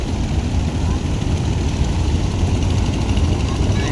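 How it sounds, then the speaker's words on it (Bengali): Engines of large passenger river launches pulling away together, a loud continuous low diesel rumble and droning throb close by, with a crowd murmuring beneath. "এত বড় বড় লঞ্চ, এত লঞ্চ,"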